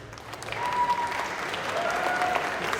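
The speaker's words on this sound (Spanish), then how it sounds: "queremos que le den un súper aplauso, por favor, a Sergio Gallardo" Studio audience applause for a guest on a university-hosted Spanish-language program, a steady wash of clapping throughout at moderate distance, with a few faint whistle-like tones rising over it.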